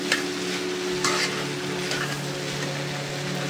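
Potato sandwich filling mixture stirred in a pan, a continuous close scraping and light sizzle with a couple of brighter clatters of the spoon, no speech.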